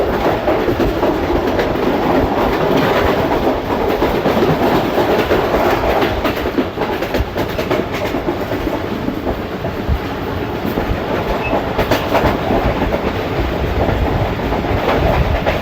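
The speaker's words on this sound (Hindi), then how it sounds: "खूबसूरत ट्रैक साउंड के साथ तेज गाम 8 डाउन।" The Tezgam 8 Down train in Pakistan rumbles loudly past at close range, its wheels clattering rhythmically over the rails without pause.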